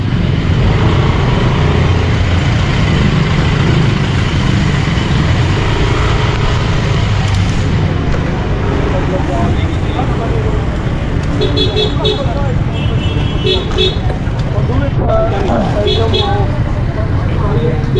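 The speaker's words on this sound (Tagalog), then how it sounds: "traffic" Road traffic rumbles continuously on a busy street in Hulong Duhat, Malabon, with several short car horn toots clustered in the second half and faint voices mixed into the roar.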